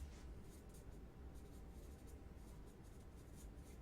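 A marker writing on a board during a process-mapping tutorial, soft scratchy strokes in quick bursts over a quiet room, faint and close.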